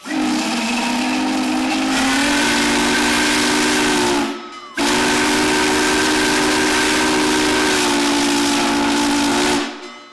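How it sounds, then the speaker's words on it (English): A steam locomotive's loud whistle blows two long sustained blasts at noon, the first about four seconds, a brief gap, then a second of similar length. "I was able to get the engine to blow its whistle at the stroke of noon."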